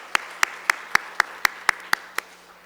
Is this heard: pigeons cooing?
no